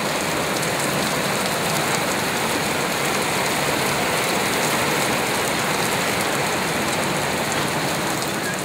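Steady, dense rainfall hisses continuously on surfaces, even and unbroken throughout.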